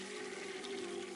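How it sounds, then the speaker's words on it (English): Toilet flushing in a restroom, a short, steady rush of swirling water with a low resonant tone, heard close and alone. "I heard the toilet flush."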